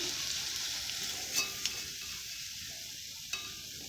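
Banana fritters frying in hot oil give a steady, fine sizzle with no talking, broken by a few sharp clicks and taps of a utensil against the pan.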